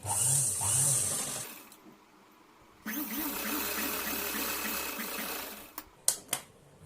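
A sewing machine stitches blouse fabric, running in two steady bursts of fast, rhythmic mechanical whirring and needle chatter, close by, with a pause between them and a few clicks at the end.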